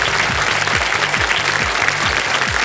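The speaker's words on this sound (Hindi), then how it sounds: "पहले ही ताली बज गई इधर से।" A studio audience at the KBC television quiz show applauds in a steady, dense wash of clapping that stays loud throughout, with no voices on top.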